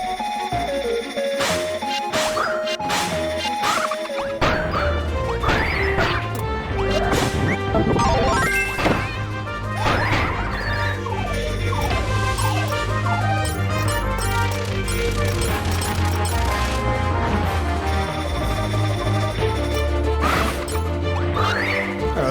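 Boss battle from Kirby Star Allies, the boss firing a laser amid a dense, continuous barrage of crashing impacts, blasts and layered game music that stays loud and busy throughout.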